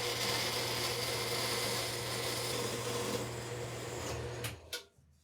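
A power saw cuts a length of vinyl J channel in a workshop, a steady loud buzzing whine that runs continuously for several seconds, then winds down and stops near the end.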